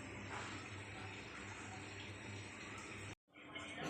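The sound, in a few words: washing dishes with running water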